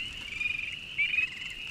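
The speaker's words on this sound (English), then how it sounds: "There's actually a frog that's chirping like right here in front of me." A frog in a Vermont vernal pool gives close, high, shrill trilling chirps that run through nearly the whole moment, with two louder pulses, and no voices are heard.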